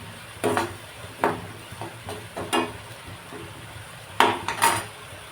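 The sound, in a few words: sautéing dried prawns in a pan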